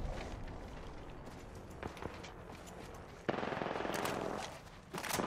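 Rapid gunfire rattles as teams fight each other in the Apex Legends video game, with continuous bursts and scattered sharp shots at moderate distance.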